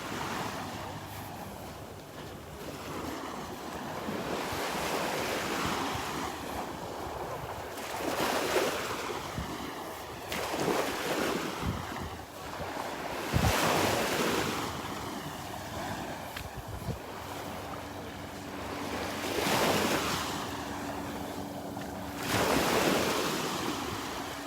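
Ocean surf rolls onto the beach at Delnor-Wiggins in repeated swells every few seconds, mixed with gusting wind buffeting the microphone, heard up close on an open shoreline.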